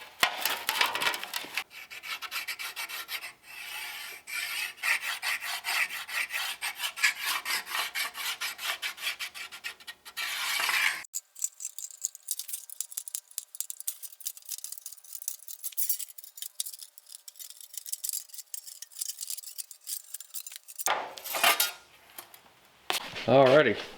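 Scissors cutting a paper or cardstock patch template for rust repair on a 1966 Chevrolet C10 pickup, a steady close rasping crunch of snips running through most of the stretch, with a pause and a few short final cuts.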